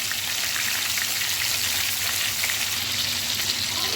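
Stuffed eggplants (brinjals) sizzle and fry steadily in oil in a kadai over slow flame, a continuous crackling hiss with small pops, close and even throughout, with no talking.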